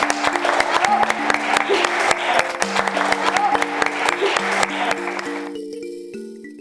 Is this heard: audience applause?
yes